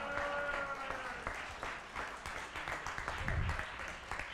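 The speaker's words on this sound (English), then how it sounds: "That deserves a round of applause." Sustained audience applause at a talk featuring Deirdre McCloskey, a steady dense wash of clapping from a full room throughout, with some murmured voices mixed in.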